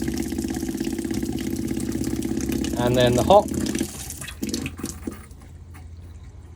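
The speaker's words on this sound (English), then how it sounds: "pump on, pull the cold water through" A motorhome's onboard water pump hums steadily beside flowing tap water, with a brief splashing surge midway before the hum fades; a person speaks over it.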